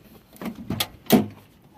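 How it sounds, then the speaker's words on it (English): Door of a 1983 Ford LTD with some rust opening: a few short clunks and a latch release in quick succession, close and moderately loud, with no talk. "Door opens like butter."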